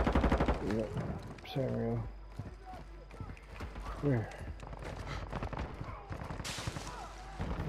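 Bursts of distant video game gunfire crackle in rapid volleys under a player's voice and quick footsteps, the shots fairly faint and scattered.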